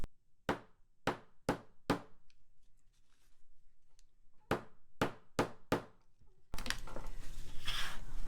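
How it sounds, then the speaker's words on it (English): Sharp hammer strikes drive staples down on a small handmade notebook, arriving in two close groups of four to five crisp blows separated by a pause, then a rustling, scraping handling noise at the end. "And again, I'll hammer those down."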